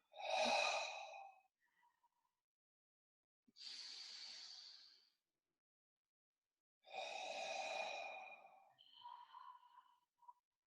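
Long, forceful exhalations during an abdominal breathing exercise, three breathy hissing breaths out separated by silence, close and clear with no talk.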